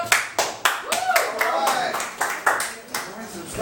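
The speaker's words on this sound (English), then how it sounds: "thank you for the applause" Audience applause for a resident comedian at a comedy show, a burst of clapping with uneven sharp claps rising and falling, with speech-like sounds mixed in.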